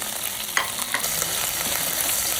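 Crushed ginger frying and being stirred in hot oil in a pan for a sea snail curry, a steady close sizzle with a few light scraping clicks and no talking.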